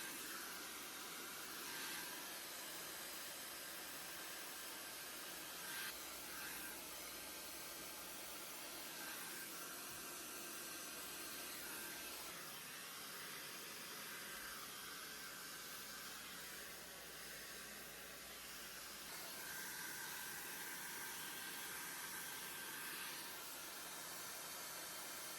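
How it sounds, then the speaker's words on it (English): A handheld hair dryer on low heat blows steadily as it dries hair, giving a faint, continuous airy hiss that stays at a constant level. "I usually blow my hair on medium heat and then switch to low heat"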